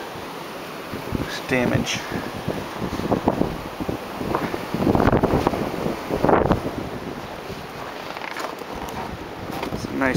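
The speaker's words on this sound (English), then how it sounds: "you probably won't be able to hear me thanks to the wind" Strong wind gusts outdoors over a snow-drifted yard, roaring and buffeting the microphone in uneven waves while someone talks through it.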